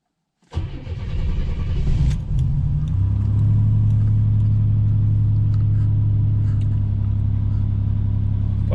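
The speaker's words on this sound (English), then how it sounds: "here's the cold start" A 1987 Buick Grand National's engine cold-starts with a brief crank, then catches and settles into a loud, steady idle rumble, close by and alone.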